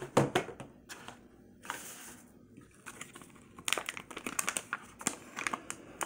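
Crinkling foil baseball card pack wrappers rustle and crackle up close as they are cut open and handled, in sharp irregular bursts with a longer crumpling stretch near the start.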